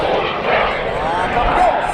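A jet aircraft flying aerobatics at the Wings Over Cowtown airshow at Naval Air Station Fort Worth, its engine roaring continuously in the distance under a commentator's voice.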